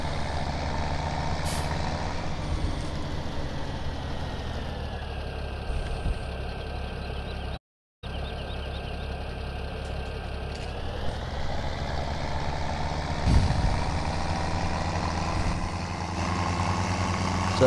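A tractor engine in the farming game Farming Simulator 17 drones steadily at a low, even pitch, cutting out briefly for a moment and then resuming at the same level, with no talk over it.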